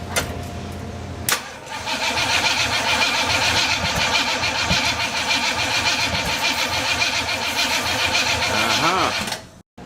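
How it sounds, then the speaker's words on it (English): A 1955 Chevy truck engine cranks briefly, then catches and runs loudly and steadily for several seconds before shutting off near the end; voices can be heard faintly under the engine noise. "pump the gas a couple times and see if it'll run"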